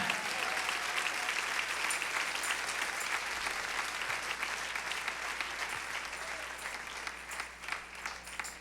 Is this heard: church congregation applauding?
yes